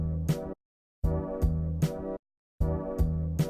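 A sampled pad from a song plays in short chopped phrases. Sustained tones are cut by abrupt silences of about half a second, so it sounds stuttering and looped. Nothing else is heard and nobody speaks.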